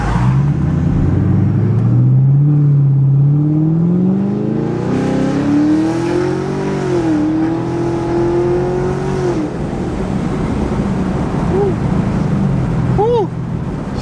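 A ProCharged supercharged 2017 Chevrolet Camaro SS accelerating from inside the cabin, its engine note climbing steadily in pitch over several seconds before easing off, loud and continuous, with a little talk near the end.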